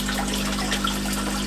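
Water spills steadily from a small bucket-and-stone waterfall into an indoor pond, a constant close splashing gush with a low hum beneath it.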